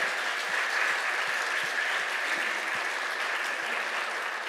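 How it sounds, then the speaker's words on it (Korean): A church congregation applauds a men's choir and worship leaders after a Friday service, a dense, steady wash of clapping from a large crowd that stays loud for the whole stretch. "남성 합창단 그리고 찬양 30분간 인도하시고 하신 수고하신 모든 분들 한번 박수로 격려해 주시겠어요?"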